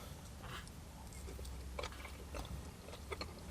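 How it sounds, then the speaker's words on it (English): Close, quiet biting and chewing of a thick Yorkshire fish-shop chip, soft irregular mouth crunches over a low background murmur of a fish and chip restaurant. "Let's go for a taste of the chip."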